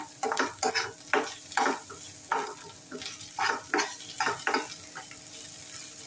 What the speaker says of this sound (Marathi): कांदा छान परतून घेऊया. अर्धा चमचा आलं लसूण पेस्ट घालूया.